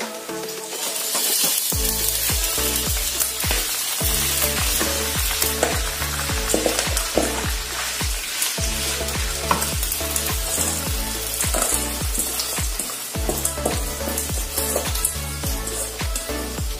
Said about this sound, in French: L'huile chauffe déjà, je vais donc ajouter le riz à l'intérieur.